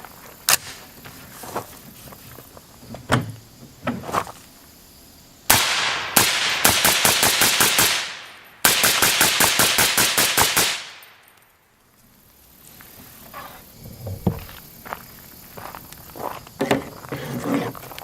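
Rapid gunfire through a suppressor fitted with a Burnproof Gear cover, about twenty sharp close reports fired in two fast strings, with quieter clanks and handling noises before and after.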